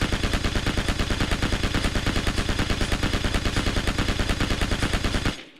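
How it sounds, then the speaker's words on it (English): A machine gun (MG) firing in the video game Hell Let Loose, a loud, rapid, evenly spaced stream of shots for several seconds before cutting off abruptly, with no talking. "Now here we are with the machine gun, the MG. I'm just going to rattle off a few."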